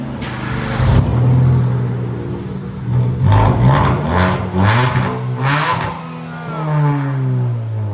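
A 2012 Hyundai Veloster 1.6L engine with straight pipes revs repeatedly with a loud, raspy, unmuffled exhaust, rising and falling in pitch over several bursts, close by, reaching about 112 decibels.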